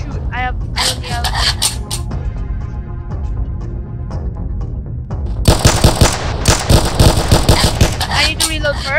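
Automatic gunfire in a Roblox 1v1 match crackles in loud, rapid bursts, pausing briefly before a denser, harsher volley, with voices heard amid the shots.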